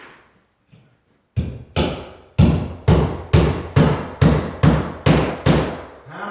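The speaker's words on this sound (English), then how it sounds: "If you never hammered drywall before" Hammer blows drive drywall into place during taping work: two light taps, then about nine loud, evenly spaced strikes, close up with no talking.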